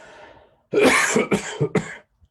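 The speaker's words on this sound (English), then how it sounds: "I don't usually cough this much during the intro." A few sharp, loud coughs in quick succession, close to the mic, after a moment of quieter breathy sound.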